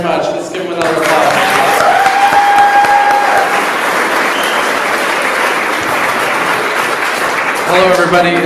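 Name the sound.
audience applause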